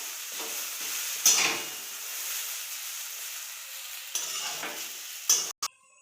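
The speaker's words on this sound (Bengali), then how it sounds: "এভাবে নেড়ে চেড়ে নিয়ে ভেজে নেব" Chowmein stirred and fried in a pan, a low steady sizzle with occasional scraping strokes and a clink of the spatula against the pan, ending in a couple of sharp knocks.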